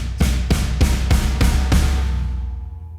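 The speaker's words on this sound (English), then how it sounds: "This fill builds intensity by combining the snare and floor tom, creating a powerful driving effect" A drum fill with snare, floor tom and kick struck together in steady eighth notes. Six punchy, evenly spaced hits land close and loud, then the last one rings out and decays.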